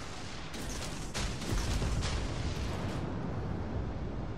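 Torpedoes launching from a warship in World of Warships: Legends, a dense rumbling game-combat roar with several sharp bursts layered over continuous low booming, loud and sustained throughout.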